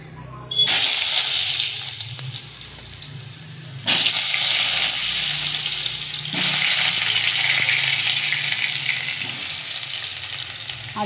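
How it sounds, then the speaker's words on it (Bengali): Potato pieces go into very hot oil in a home kitchen pan, and each batch sets off a loud burst of sizzling. Three such bursts come in close succession, with continuous frying hiss in between. "তেলটা গরম হয়ে গেছে এবারে আলুগুলোকে ভেজে নেব"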